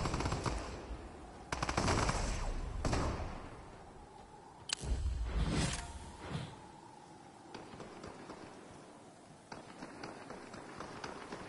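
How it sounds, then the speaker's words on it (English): Gunfire in a Fortnite battle royale match: bursts of rapid shots and single cracks, some loud and some more distant, spread across the scene with game noise between them. "My little dude down there is shooting somebody."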